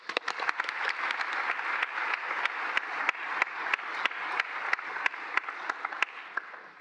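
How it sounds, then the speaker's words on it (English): Applause from a graduation ceremony crowd, a steady wash of many hands clapping with sharper individual claps popping out, sustained for several seconds at moderate loudness. "a big round of applause for the class of 2025"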